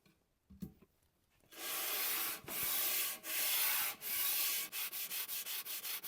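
After a quiet moment, the sole of a No. 7 Bailey-style jointer plane is lapped on 120-grit sandpaper in close, rasping back-and-forth strokes that start long and grow shorter and quicker toward the end.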